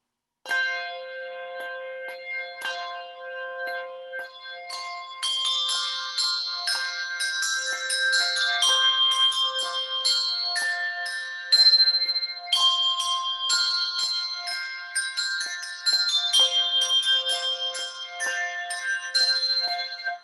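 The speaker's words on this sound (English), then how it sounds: "So if one person is playing these two bells" Handbells in C5 and F5, split between two hands acting as two ringers, chime clearly and alone in an alternating, overlapping pattern, each strike ringing out with bright sustained tones over about twenty seconds.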